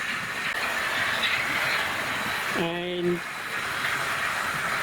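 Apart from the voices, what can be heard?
Oxford Rail class N7 model locomotive running on layout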